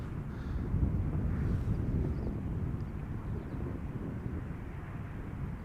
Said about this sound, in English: There is an Embraer that is passing by us